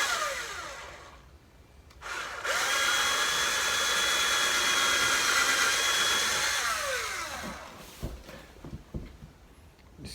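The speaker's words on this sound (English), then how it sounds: "now you can start drilling." A power drill whirs in sustained bursts, drilling bracket holes for window blinds, spinning up and winding down a few times with short gaps and handling noises between.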